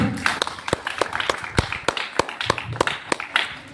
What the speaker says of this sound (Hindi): जोरदार तालियां बजाएं एक बार।